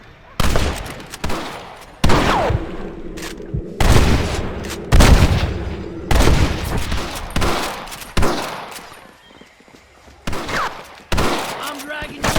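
Repeated gunfire in a Red Dead Redemption shootout on Xbox One, loud shots and sharp bursts crashing in irregular waves across the scene while shouting voices break in between.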